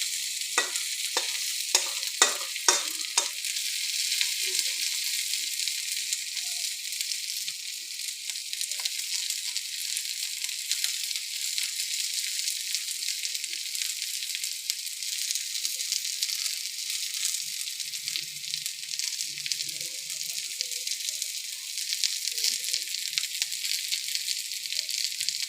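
Onions sizzle and fry in a pan, a dense steady hiss throughout, opening with a few quick scraping stirs and later occasional clinks and soft scrapes of the spoon, close and loud with no voices.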